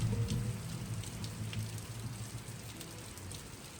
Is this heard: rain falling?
yes